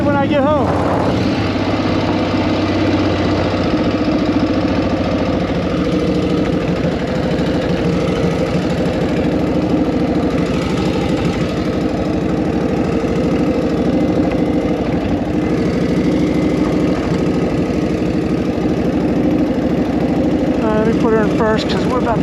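A 1940 flathead motorcycle engine idling, a loud continuous low rumble that runs steadily close by, with someone talking over it.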